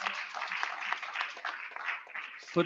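An audience claps for a mayor at a climate finance roundtable, giving a brief, fairly quiet patter of applause that fades slightly before a short thump at the end.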